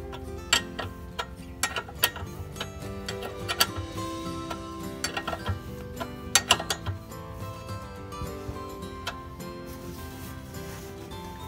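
A ratchet wrench clicks in quick irregular bursts while tightening a rear shock absorber bolt on a 1998 Toyota RAV4, the metallic ratcheting fairly close and moderately quiet against a faint workshop background.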